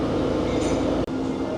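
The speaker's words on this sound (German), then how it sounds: "Da kommt gerade ein Autozug an und die Lok verabschiedet sich vom Zug" A car-carrying train pulled by a diesel locomotive rolls into Westerland station on Sylt, a continuous loud rumble of wheels on rails with a faint squeal, heard up close without talk.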